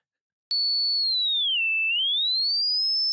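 Pure high test tone near 6,000 hertz played through headphones, starting abruptly and sweeping slowly down, then back up to its starting pitch; a thin, piercing, steady whistle heard alone.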